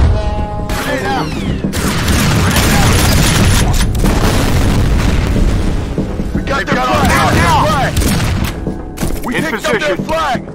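A booming grenade blast in the F.E.A.R. Combat shooter, loud and sustained amid rapid gunfire, with brief game voice callouts over the din.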